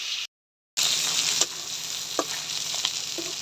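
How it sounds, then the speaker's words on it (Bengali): River fish frying in hot oil, a steady loud sizzle with a few soft stirring knocks, cut by a short gap near the start, then continuing evenly without talk. "মাছগুলা ভালো করে ভেজে নেব।"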